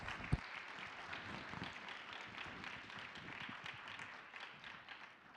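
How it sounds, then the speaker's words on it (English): A second round of clapping at a leadership summit as panelists leave the stage, moderately loud and continuous, thinning slightly toward the end with no speech over it. "Let's give them another round of applause as they leave the stage"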